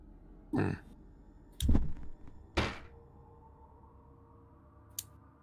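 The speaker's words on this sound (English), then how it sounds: "Alvin, the door and the windows slam shut." A door and windows slam shut during a Dungeons and Dragons tabletop game: three heavy wooden thuds land about a second apart in a quiet room, followed by a faint sharp click, with no talking.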